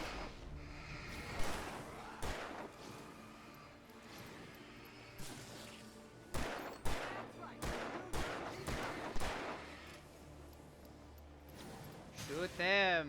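Gunfire in the video game Alan Wake Remastered: a scattered series of sharp, loud shots and impacts, some in quick bursts, mixed with a voice talking throughout.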